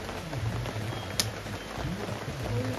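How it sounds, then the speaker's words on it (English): Rain falls steadily outside a camper at a lake campsite, a faint, even hiss of drops with one brief sharp tick partway through and no talking. "I'm watching it rain."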